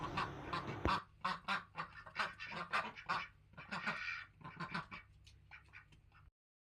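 Yi Liang ducks raised for eggs on an integrated farm quack in a busy cluster of overlapping calls, close and steady for about six seconds before cutting off.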